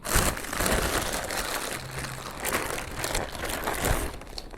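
A plastic bag holding two takeaway fatteh meals from a cheap Egyptian shawarma restaurant is handled, giving steady close crinkling and rustling for several seconds.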